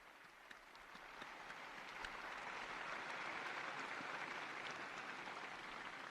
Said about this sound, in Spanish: Un aplauso para el nuevo beato.